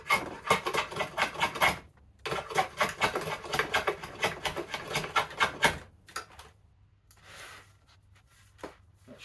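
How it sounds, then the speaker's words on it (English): Hand rasp shaping the tip of a yew longbow stave, a run of close, steady rough rasping strokes that pause briefly, resume, then stop, followed by a few faint scrapes. "so just going to get the rasp out on that."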